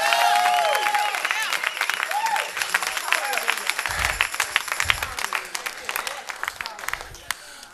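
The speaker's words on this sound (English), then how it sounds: "I'll give him a hand clap of praise right now." A church congregation claps hands in praise, a mix of applause and cheering that gradually thins into scattered claps, with voices mingled in.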